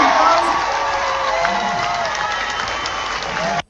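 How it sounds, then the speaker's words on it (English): A large crowd cheers and whoops at the Highlander 7 fan gathering, a loud, dense, sustained roar of voices and clapping that fills the whole stretch and cuts off abruptly at the end. "It's a cheering crowd."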